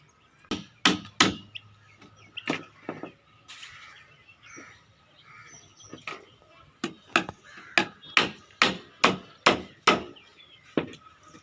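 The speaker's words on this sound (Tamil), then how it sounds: "எல்லா பாக்ஸையும் நம்ம இந்த மாதிரி அடித்து வச்சுக்கணும்" Nails are hammered into a wooden cage box with a string of loud, close, sharp blows, irregular at first and then a fast steady run, with quiet gaps between and faint birdsong in the background.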